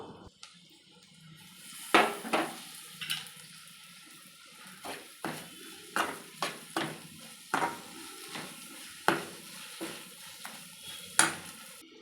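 Onion and tomato pieces fry in a pan for a potato and egg curry, with a quiet sizzle beneath repeated sharp stirring knocks and scrapes of a spoon against the pan, spaced about a second apart.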